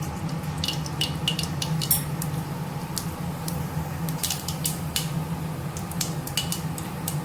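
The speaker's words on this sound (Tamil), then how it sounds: "எண்ணெய் காய்ஞ்சிருச்சு, நம்ம கடுகு சேர்த்துக்கலாம்" Mustard seeds spluttering in hot oil in a pan, a steady crackle of sharp pops scattered irregularly over a low cooking hum, close and moderately loud.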